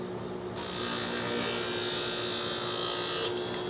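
A power tool cuts one inch off the tip of a golf driver shaft for a TaylorMade SIM2 driver build, a steady close-up grinding whine that holds loud for several seconds with no talking.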